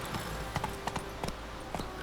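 Horse hooves in The Witcher 3: Wild Hunt clop at an uneven walking pace, a handful of light, close hoof strikes scattered over about two seconds against a soft outdoor ambience.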